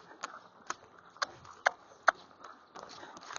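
A Tennessee Walking Horse gaits over bad footing, its hoofbeats landing as a faint, evenly spaced series of sharp clops, roughly two per second.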